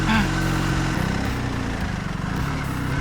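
A motorcycle rides along a narrow rural mountain road in Japan, its engine a steady loud drone with shifting pitch and wind rush, close and continuous throughout.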